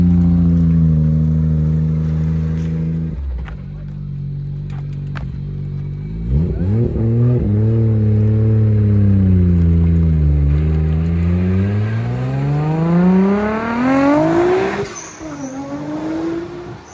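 Rebuilt Nissan 400R engine on its first drive after the rebuild, loud close revving that drops at a shift, then climbs, dips and surges again with rising pitch, aggressive and continuous.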